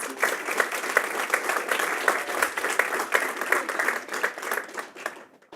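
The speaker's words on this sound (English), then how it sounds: "let's give them a round of applause" Audience applause for the judges at a pitch session finals event, a dense, sustained crowd clapping that holds steady for several seconds before tapering off at the end.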